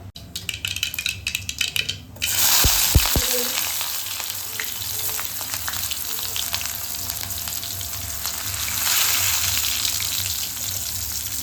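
Mustard seeds splutter in hot oil as tempering for a South Indian vegetable stir-fry: a short busy crackle, then a few sharp pops and a steady bright sizzle that carries on up close, with no talking.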